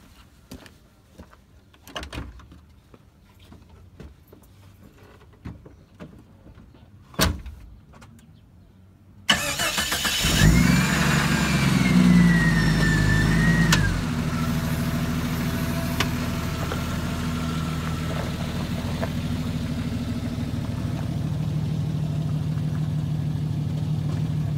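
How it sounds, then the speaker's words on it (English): Jeep Cherokee engine starting and pulling away on a test drive after a tie rod flip, with faint clicks and thumps first, then a sudden loud rise into a steady running drone. "Let's go ahead and take it for a test drive."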